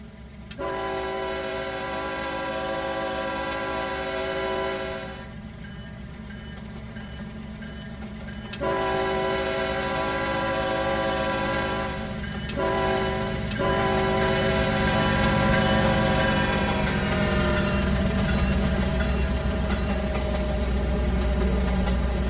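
A long freight train in the Trainz video game rolls steadily past, led by a CSX locomotive, its horn sounding in sustained, chord-like blasts that stop and restart, with heavy low rumble throughout.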